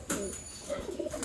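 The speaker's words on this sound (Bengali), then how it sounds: "পায়রা ডাক দাও" A pigeon gives a soft, brief coo nearby, two short low rolling notes within a quiet moment.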